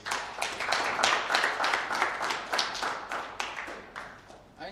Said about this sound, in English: I think George deserves a fancier clap